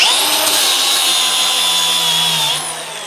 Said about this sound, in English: I use a really stiff cup wheel on these